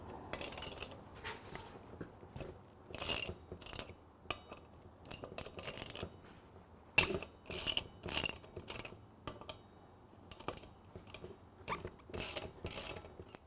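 Ratchet and hand tools working on the front wheel of a Benelli 1130 TnT to take off the brake discs, giving bursts of clicking and metallic clattering in separate clusters with short pauses, close by and with no talking.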